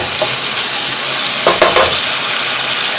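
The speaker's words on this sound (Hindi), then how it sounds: "अच्छी तरीके से इसको भूनने देखें, टमाटर ने पानी छोड़ना शुरू कर दिया है।" Potatoes and tomatoes with masala for anday aloo bhujia fry in a pan with a loud, steady close sizzle; a few brief stirring scrapes come midway.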